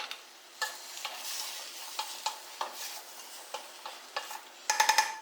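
Tomatoes added to a sizzling pan and stirred, with a steady frying hiss broken by regular scraping and clinking utensil strokes, close and fairly quiet, ending in a quick burst of metallic taps.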